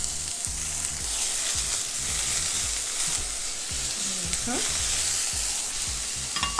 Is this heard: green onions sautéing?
yes